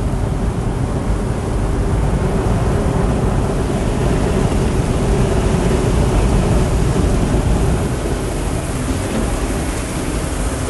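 Heavy rain drums steadily on a vegetable pickup truck driving through a downpour at Mandalika, a dense, loud, unbroken roar with road and engine rumble underneath.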